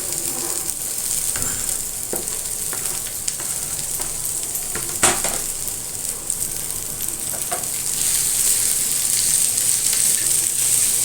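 Chopped takla leaves fry in a hot pan, giving a continuous loud sizzle with scattered crackles and soft stirring scrapes that swell slightly toward the end.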